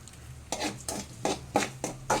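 Egg Maggi noodles with masala and salt being stirred in a pan, five or six rhythmic scraping strokes of a spatula over a faint low hum, close and distinct.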